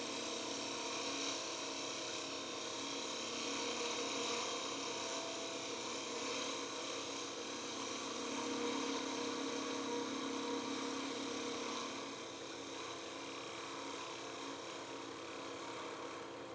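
A wood lathe gouge takes a light cut across the face grain of a turned box, producing a faint, steady scraping hiss over the continuous hum of the lathe.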